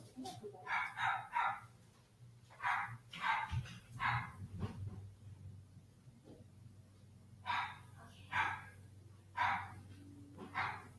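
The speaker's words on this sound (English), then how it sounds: "I gotta let my puppy inside." A puppy barks in short repeated bursts while it is being let inside the house, several yaps spaced across the stretch at moderate distance over a low steady background hum.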